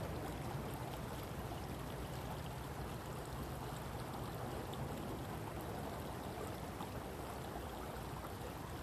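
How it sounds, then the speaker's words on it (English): A faint, continuous wash of a stream flowing beneath a fallen willow tree, steady and even throughout, with no voices. "as the water flows underneath."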